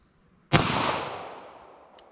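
A single 9mm pistol round is fired at a car windshield, a sharp loud crack with a long decaying outdoor echo and a faint click near the end.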